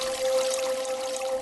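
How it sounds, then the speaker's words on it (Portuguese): Water pours out of a hole in a steady, hissing stream, a brief continuous splashing gush at moderate level with no voices. "Deus abriu um buraco e dele saiu água."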